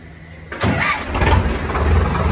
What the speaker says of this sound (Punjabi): ਟਰੈਕਟਰ ਹੋਇਆ ਸਟਾਰਟ